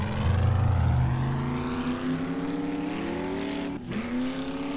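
A truck engine drones steadily in the video game 7 Days to Die while driving through side streets, loud and continuous with the pitch rising gradually and one brief dropout near the end.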